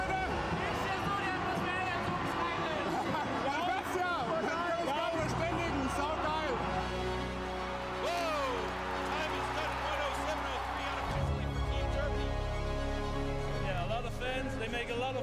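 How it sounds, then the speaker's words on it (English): Crowd at a STIHL Timbersports BeNeLux Pro Championship event roars continuously with clapping and cheering, a dense, loud wash of voices that swells again near the end. "And the crowd goes bananas."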